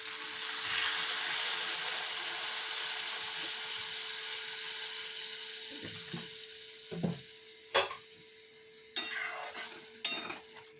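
Water poured into a pan of broad beans and potatoes that were frying, a loud hissing sizzle that slowly dies down, then several sharp clinks and scrapes of a spoon against the pan.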